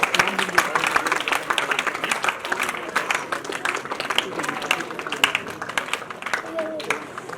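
An audience at a retirement programme claps in steady, dense applause, close and lively, lasting the whole stretch with a voice speaking over the clapping.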